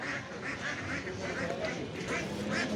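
Ducks quacking at a traditional livestock market selling poultry, a series of nasal quacks repeated in quick succession amid a busy crowd murmur.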